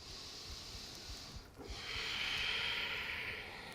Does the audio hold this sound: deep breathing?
yes